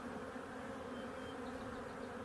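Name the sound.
honeybees buzzing during hive inspection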